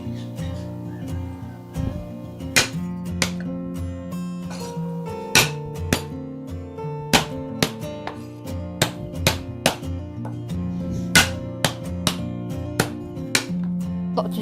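Raw shrimp meat is pounded by hand on a board to make shrimp balls, a run of irregular dull thumps over about fourteen seconds, with steady background music.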